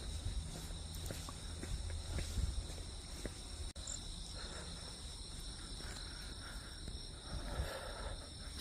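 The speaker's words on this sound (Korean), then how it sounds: "사실 귀뚜라미 소리가" Crickets chirp steadily on a quiet night outdoors near a stream, a faint continuous high trill with some footsteps and rustling close by.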